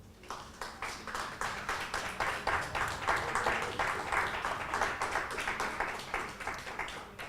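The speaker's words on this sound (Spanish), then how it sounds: "¿Por qué no le da un aplauso al Señor esta mañana?" Congregation in a church service clapping together, a dense steady applause of many hands that swells and holds loud throughout without anyone speaking.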